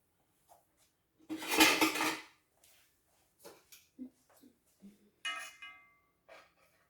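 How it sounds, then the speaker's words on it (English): Knife and fork working over a cast iron plate of rested grass-fed steak, one loud metallic scrape and clatter followed by several softer, scattered clinks and taps. "now we're going to slice into them so that you can see what they look like on the inside"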